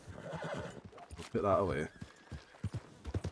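Horse in Red Dead Redemption 2 whinnies loudly in a brief rising neigh mid-clip, with faint hoof clip-clops scattered around it, while someone talks over and between the sounds.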